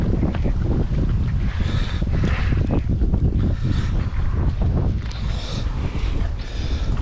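Steady strong wind buffeting the microphone on the shore of Lake Nillahcootie, a loud continuous roar with gusty swells throughout and no voices.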